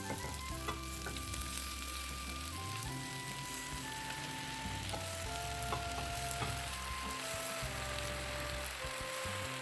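Macaroni sizzling and frying in a pan for a Desi chicken macaroni pasta, a dense crackle that runs the whole way. Occasional stirring scrapes and a low hum from the cooking setting sit underneath the sizzle.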